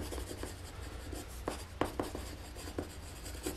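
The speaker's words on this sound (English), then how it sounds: "Or I'll just write that seam allowance" Pen or marker scratching seam allowance markings onto a self-drafted paper pattern for bathing boots, a series of short distinct strokes over a low steady room hum, close and fairly quiet, with no talking.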